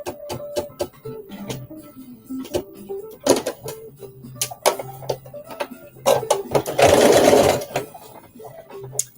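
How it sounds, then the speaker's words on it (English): A sewing machine stitches a 5/8-inch seam on a jumpsuit in repeated short bursts of close, rapid whirring, with one longer steady run near the end. "I'm going to stitch 5/8 of an inch across."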